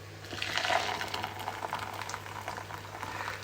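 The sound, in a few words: boiling water poured over a tomato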